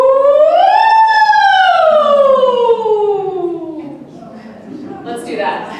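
A single human voice imitates a siren in a rural North Carolina distress holler: a loud, close wail that rises, then slides down in a long falling sweep before fading out.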